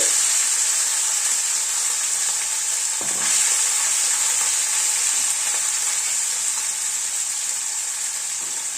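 Small mourola fish dropped into hot mustard oil in a kadai on a gas stove, giving a loud, steady, close sizzle that holds throughout with a slight dip around the third second.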